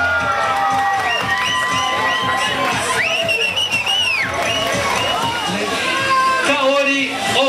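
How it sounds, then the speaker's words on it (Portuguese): A lively crowd at a Brazilian Day girls' pageant cheers a finalist with shouts, high whistles and scattered clapping, a loud, busy swell of voices rising and falling throughout. "Uma salva de palmas para a Stephanie"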